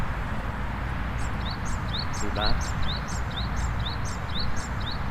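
Birds in Zabeel Park, Dubai, give a bright, repeated chirping call at a steady rhythm over a constant outdoor background hiss. A person speaks briefly partway through.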